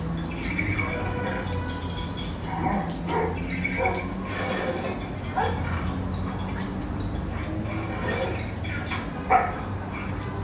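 Pet wolves in the video game Minecraft yip and bark intermittently at low to moderate volume throughout, scattered short calls over a steady background hum.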